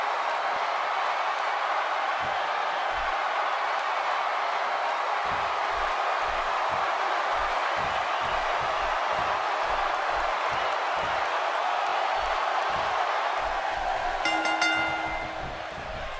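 Large wrestling arena crowd at a WWE SummerSlam 2017 match, a steady broad roar of cheering that fills the whole stretch, with rhythmic stomping or clapping thumps underneath and a brief tonal horn-like burst near the end.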